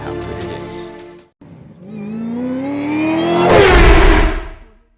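A 2025 Toyota Supra's engine note climbs steadily in pitch as the car accelerates, after a short burst of sound and a brief gap, swelling loud near the end before dropping away.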